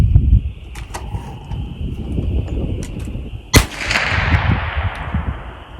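A single sharp rimfire rifle shot, CCI Mini Mag 40 grain ammunition, fired during a Leupold rimfire scope test, cracks loudly and close over a steady background hum, followed by a fading hiss.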